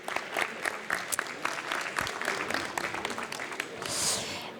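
Audience applauding at the close of a talk and question session on resilience, a dense patter of clapping with scattered louder claps and some murmuring voices mixed in.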